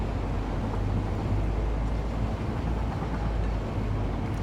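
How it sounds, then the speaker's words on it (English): Trains rolling through in the factory-building game Satisfactory, a steady low rumble with a droning hum that holds evenly throughout, no voices over it. "Wow, there's so many trains coming through now."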